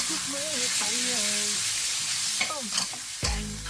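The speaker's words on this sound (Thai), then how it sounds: "ผัดเนื้อหมูให้สุกเลยครับ" Pork sizzles and fries in a hot pan while being stir-fried, with a few scraping clatters near the end and a faint voice early on.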